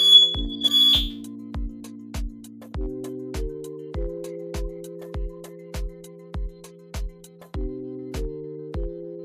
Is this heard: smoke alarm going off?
yes